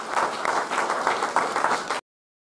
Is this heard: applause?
yes